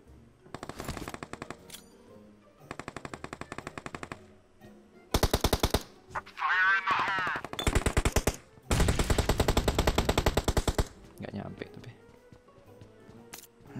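Gunfire in the PUBG battle royale video game comes in several loud bursts of rapid automatic shots, some long and sustained. A short tonal sound sits between the bursts, and there is no clear talk.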